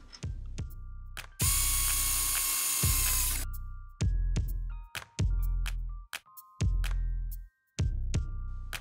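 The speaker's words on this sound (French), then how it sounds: "je vais venir percer un trou dans le carton" A thick drill bit bores a hole through cardboard, heard as loud, close bursts of motor whine that start and stop several times, broken by sharp clicks and short pauses.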